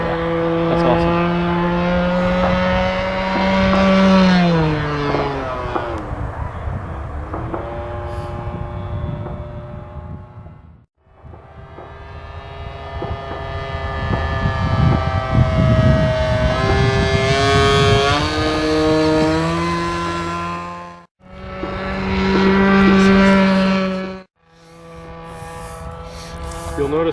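Model airplane engine droning loud and close at high throttle in flight, its pitch rising and falling as the plane passes, with two brief dropouts and voices talking faintly beneath.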